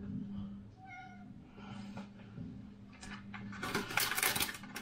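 A cat meows a few times while being offered sausage, short tonal cries under a quiet person's voice, followed by rustling and clattering sounds near the end.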